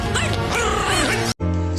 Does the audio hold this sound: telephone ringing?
no